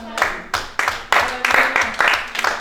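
Applause during a church service: rhythmic, fairly close group clapping in quick bursts that swell and fade, with a low voice heard faintly underneath.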